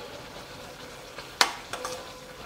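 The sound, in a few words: rose apple pickle boiling and frothing in a pan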